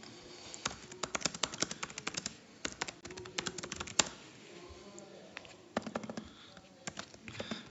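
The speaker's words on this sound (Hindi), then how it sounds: "मैं जस्ट इसमें कुछ डमी डाटा एंटर करता हूँ just for the sake of दिखाने के लिए।" Computer keyboard typing as dummy data is entered into an automation system form, with irregular bursts of close, crisp keystrokes and short pauses between runs.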